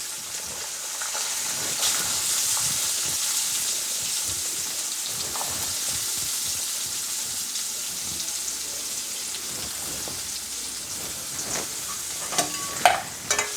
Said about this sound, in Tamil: கொஞ்சம் வதக்கலாங்க. ஒரு 2 நிமிஷம் வதக்கலாம்.